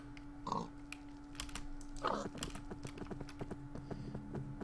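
Pigs in a modded Minecraft world give two short grunting squeals, the first near the start and the second about two seconds later, over steady game background noise and soft clicking.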